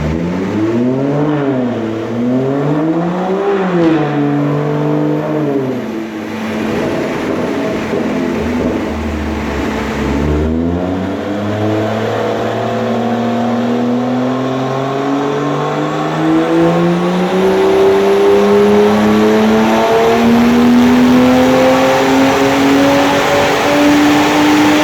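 A big-turbo BMW M2 on race fuel revs hard and loud. The engine note climbs and dips, then rises in a long, steady pull that builds to a high, strained whine near the end.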